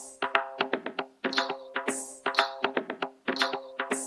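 A looped tabla pattern, muffled and filtered, with quick rhythmic strokes in repeating bars over a low tonal drone, faint and soft.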